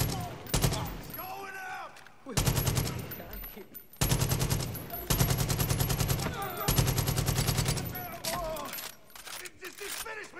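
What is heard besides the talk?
gunfire in video game Far Cry 5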